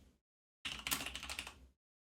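Fast typing on a computer keyboard while playing the EGA version of Police Quest, a crisp burst of keystrokes lasting about a second after a short earlier tap, close and alone.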